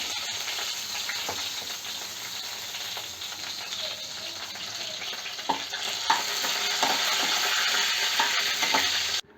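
Curry leaves and slit green chilies crackle and sizzle in hot oil with cumin seed and mustard, a steady close frying hiss broken by occasional sharp pops and stirring clicks, no voices.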